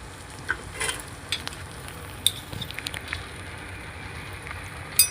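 Garlic bread sizzles on a tawa griddle, a soft continuous crackle and hiss with scattered small pops and occasional light clicks, moderately quiet and without voices.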